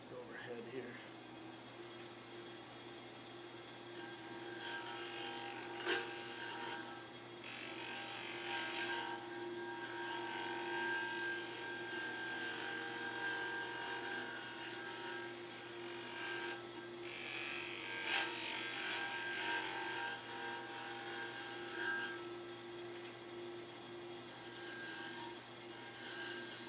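Continuous scraping and rasping of wood being turned on a lathe with a small detailer tool, moderate and close, swelling and easing as the cut moves, over a steady motor hum.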